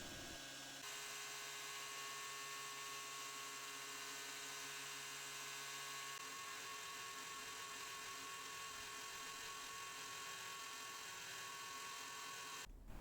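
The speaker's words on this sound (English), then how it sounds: "I've got a 36 grit belt on the grinder, hogging some material off the sides, tapering them" A belt grinder running a coarse 36 grit belt hogs material off the sides of a steel longsword guard. A steady, loud, high whine holds for about thirteen seconds, its tone shifts midway, then it cuts off abruptly.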